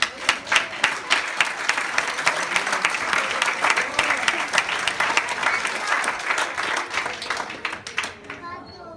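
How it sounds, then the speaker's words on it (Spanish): A church congregation applauding together, dense sustained clapping from a crowd indoors that fills the space and then tapers off near the end. "Y que denle un aplauso a estos hermanos que se lo merecen."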